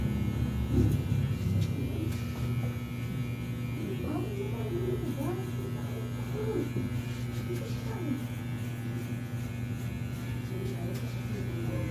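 Steady buzzing of electric hair clippers shaving a head bald, close and continuous over a constant mains-like hum, with faint voices underneath.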